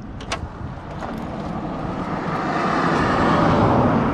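A Gilera Runner 180cc scooter fitted with a smart carb runs at a steady idle nearby, its broad engine drone holding constant and swelling slightly louder toward the end, with no talking.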